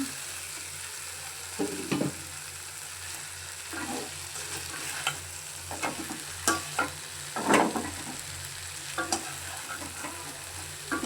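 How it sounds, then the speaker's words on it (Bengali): Fried koi fish stirred into frying spices while a spatula scrapes and stirs the pan in irregular bursts over a steady low sizzle, no voices. "আমি এখন এই যে ভাজা মাছগুলো দিয়ে দিলাম"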